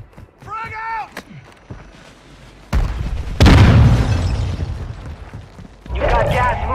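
A frag grenade detonates in Warzone 2 on the Vondel map, a loud broadband blast with a rumbling tail, preceded by radio-style voice callouts and followed by further loud gameplay noise.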